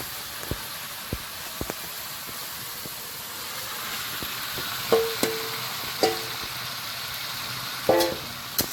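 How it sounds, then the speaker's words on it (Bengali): Meat cooks in fried spice paste in a pan outdoors during the rainy season, a steady soft sizzle broken by occasional sharp clacks and scrapes of stirring. "মশলাটা কষানো হয়ে গেছে, এবারে এর মধ্যে মাংসটা দেবো"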